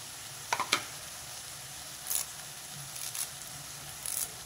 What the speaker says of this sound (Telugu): ఇప్పుడు కట్ చేసి పెట్టుకున్న పచ్చిమిర్చి వేసేసా